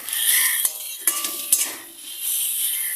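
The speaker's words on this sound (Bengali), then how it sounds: "পাট শাকটা আমি রসুন আর কাঁচা লঙ্কা দিয়ে ভাজা করতেছি" Jute leaves frying with garlic and green chili in a pan, heard as a scraping, clinking stir of a utensil against metal over a soft steady sizzle, with a few sharper knocks close by.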